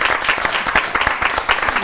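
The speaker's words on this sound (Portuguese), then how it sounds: "Uma salva de palmas, gente." Sustained crowd applause at a Mackenzie Voluntário stage event, many hands clapping at once, loud and close with individual claps standing out in an uneven rhythm.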